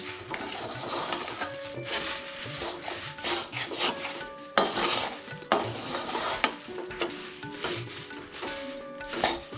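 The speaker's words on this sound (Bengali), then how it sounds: "এবার খইটা আস্তে আস্তে গুড়ের সাথে মিশিয়ে নিতে হবে।" Puffed rice stirred into melted jaggery in a pan for Joynagar-style moa, making continuous close scraping and rustling strokes of a spoon against the pan, with rhythmic swishes and occasional louder scrapes.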